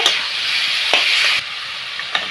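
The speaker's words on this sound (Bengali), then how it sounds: "এই লবণটা দিয়ে আবার একটু নাড়াচাড়া করে নিলাম" Papaya chutney, freshly salted, stirred in a pan, with a loud, close hiss of sizzling under a few quick scrapes of the spoon before the sizzle drops slightly.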